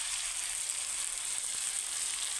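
Onion, ginger-garlic paste and sesame paste hit a hot pan with a steady, fairly quiet hiss of sizzling that stays constant throughout, with no voices.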